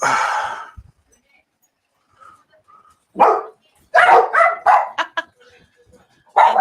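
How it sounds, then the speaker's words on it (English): Several loud dog barks in a quick irregular burst, close by, with quiet pauses between, one bark opening and another closing the stretch. "close the window so they don't keep barking"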